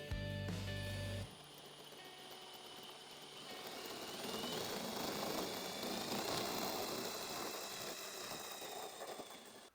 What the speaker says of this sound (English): So I'm going to drill just to where the bottom of my Forstner bit here sets flush with the bottom of the table.